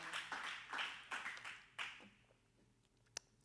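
A church congregation clapping for the Lord during a service, a soft, distant patter of applause that swells in a few waves and then thins out, leaving a single late clap.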